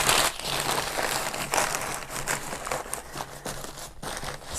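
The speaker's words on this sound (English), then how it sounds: "Then I will get another piece of packaging paper." Packaging paper is crumpled around a mug in a box, a continuous close crinkling and rustling with no talking.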